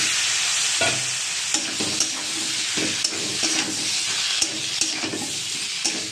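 Taro and potato fry in a cooked spice masala, with a continuous loud sizzle and periodic scraping stirs of a spatula against the pan.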